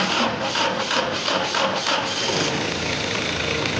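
A forklift engine runs close by at a loud, rough idle, pulsing unevenly at first and then settling into a steady rumble; no one talks over it.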